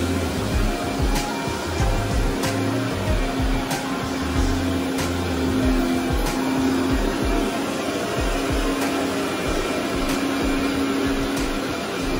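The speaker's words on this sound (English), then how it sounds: "There's Angela vacuuming with the workhorse." A commercial upright vacuum runs over carpet during a professional carpet cleaning job, giving a steady, loud motor drone with a constant high whine and faint rhythmic bumps as it is pushed back and forth. No one speaks.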